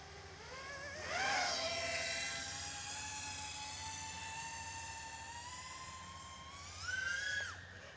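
An AmaxR4 mini FPV drone whines overhead, its motor pitch rising sharply on takeoff, holding a long steady tone, then surging again near the end before cutting off; no talk.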